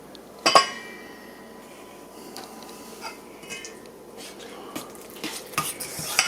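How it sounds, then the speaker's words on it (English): Flour mixture for sweet potato bread whisked in a bowl, with a sharp clink at the start and then soft, uneven scraping and tapping that picks up toward the end, no voices. "I'm just going to whisk that in there so it's not lumpy."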